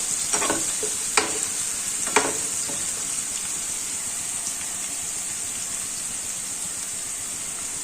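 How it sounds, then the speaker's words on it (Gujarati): Green garlic sautéing in a pan for a green pigeon pea curry, a steady close sizzle and hiss with a few stirring clinks near the start, no voices. "લીલું લસણ થોડું એવું આ રીતે સતળાઈ જાય"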